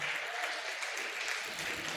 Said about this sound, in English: Another hands of applause for the winner